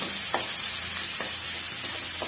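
Steady sizzling of ridge gourd frying in a pan with mustard seeds and cumin popping, occasional soft scraping strokes of stirring, close and continuous, no voices.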